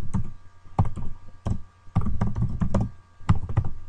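Fingers type on a computer keyboard in quick, uneven bursts of close, crisp key taps separated by short pauses, while someone enters HTML text.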